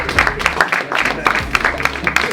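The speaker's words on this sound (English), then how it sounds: "Maybe give them another round of applause." A burst of applause from a crowd at a handover ceremony, with rhythmic clapping that continues steadily throughout at close range.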